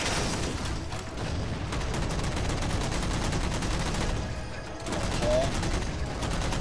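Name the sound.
rockets and gunfire in the video game Halo 4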